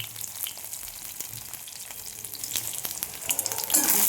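Onion and garlic fry lightly in a pan, giving a soft crackling sizzle that swells near the end. No voices.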